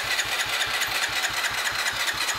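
A small engine fitted with a blow-off valve cranks and runs in a fast, even chugging rhythm, loud and close, steady for a couple of seconds with no voices.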